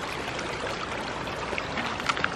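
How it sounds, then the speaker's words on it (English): Water running off down a small creek toward a road, a steady broadband rushing and trickling with faint splashy accents, close and continuous with no talk. "Look at this water running"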